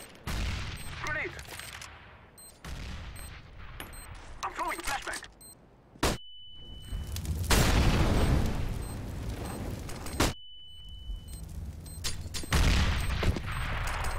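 Video-game gunfire through smoke: repeated loud bursts of rapid shots and booming impacts, broken by short pauses, with game effects and some talk mixed in.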